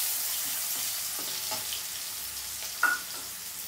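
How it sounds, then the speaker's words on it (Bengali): Chopped onion fries in a pan with a soft, steady hiss and a few light stirring scrapes, plus one brief clink near the end. "আমি এটা একটু অল্প ভেজে নেব।"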